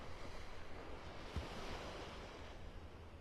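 Waves break on an empty beach in North Naples, Florida, a steady low wash of surf under gusting wind noise, with one brief thump partway through.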